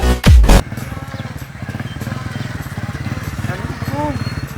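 A motorcycle engine idles nearby with a steady, throbbing putter, preceded by a brief loud burst of handling noise.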